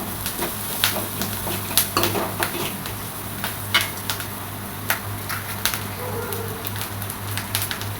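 An onion and egg mixture is stirred and fried in a pan, with faint sizzling beneath irregular scraping and clinking of a spatula against the pan.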